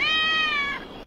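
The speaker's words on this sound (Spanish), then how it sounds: "Escucho un gato." A cat meows once in a video game, a single clear, drawn-out, high-pitched meow lasting under a second, alone and close.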